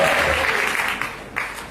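Audience applause fills a hall, a dense steady clatter of many hands that slowly fades over a couple of seconds with a few louder claps near the end.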